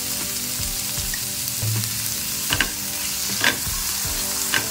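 Tomatoes fry over a high flame in a pan, a continuous sizzle broken by a few sharp scrapes and clacks of stirring near the end.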